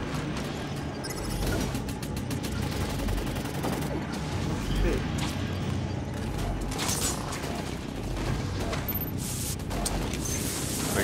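Rapid bursts of gunfire and heavy tank cannon blasts in the DUST 514 shooter game, a sustained battle with a dense clatter of shots, nearby and loud, with speech mixed in.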